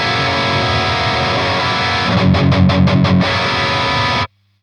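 A heavily distorted electric guitar through a Friedman BE-100 Deluxe amp with the response switch set fully right plays a sustained crunchy riff, then a quick burst of rhythmic palm-muted chugs before cutting to silence.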